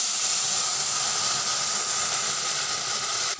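Masoor lentils and a little water hitting a hot spice tempering for dal with bottle gourd, producing a loud, steady hissing sizzle with a small knock at the very end.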